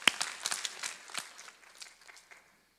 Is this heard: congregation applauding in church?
yes